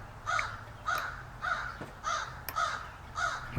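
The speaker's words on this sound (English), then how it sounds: "Okay, now that's a crow." A crow caws six times at an even pace, each call moderately loud and somewhat distant, with faint clicks of small model ship parts being handled in between.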